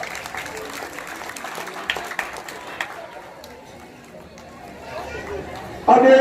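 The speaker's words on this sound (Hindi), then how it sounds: "आपको तालियों से उनका स्वागत" An audience at a Ramlila-style cultural event applauds the performing artists, a steady wash of crowd clapping with chatter, easing off midway before a loud burst near the end.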